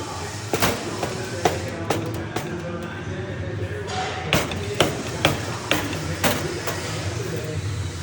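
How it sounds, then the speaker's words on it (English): Metal strikes ring out in a garage during a teardown of a 1999 Kawasaki KX250 dirt bike, a dozen or so sharp irregular hammer blows under a steady background hum. "Just use the gun, hammer that thing on."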